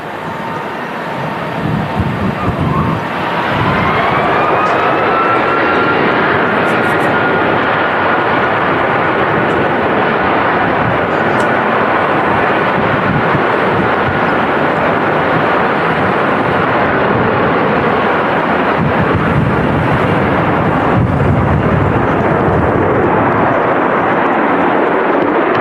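A Jet2 Boeing 757 takes off at windy Manchester Airport with a loud, sustained engine roar. A rising whine is heard early on, and the sound stays broad and heavy throughout with no talk.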